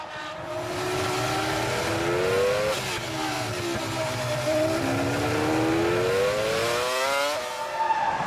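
Formula 1 race cars at the 2004 Malaysian Grand Prix, a McLaren hounded closely by another car, scream past with high engine whines rising and falling through gear changes, several cars overlapping in a continuous roar.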